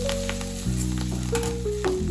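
Greens with salt fry and get turned over on a hot tava, a close, steady sizzle with light stirring scrapes, alongside a faint musical tone.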